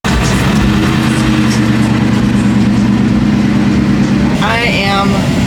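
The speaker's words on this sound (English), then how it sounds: "the car is so loud you can't hear anything" A Ford Mustang's engine runs loudly and steadily at close range, a constant low rumble that fills the space, with a brief voice cutting in just before the end.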